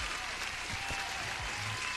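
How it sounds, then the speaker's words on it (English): A steady wash of applause fills the whole stretch, dense clapping with faint low voice fragments underneath. "Huge applause, my man."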